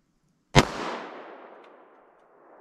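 A single sharp, loud gunshot from a 3-inch .38 Special revolver firing a 130 grain bullet, a sudden crack followed by a long fading outdoor echo.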